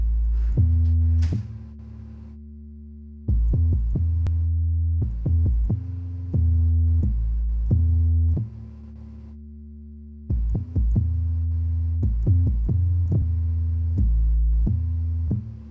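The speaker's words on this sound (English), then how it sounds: "It got a nice crispy bass that's not overpowering, too muddy or anything like that." A soloed synth bass plays a deep, sustained sub line in short phrases with brief gaps, alone and steady in level, with no talking.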